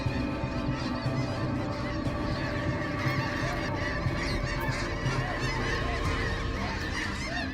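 A large flock of snow geese honking continuously, a dense overlapping chorus of calls that stays loud and steady throughout with no pauses.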